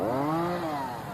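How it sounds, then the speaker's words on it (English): A chainsaw cuts through a downed tree on a winter shoreline, its engine a loud, steady whine that drops slightly in pitch as it bites into the wood. "So sorry for the chainsaw noise in the background"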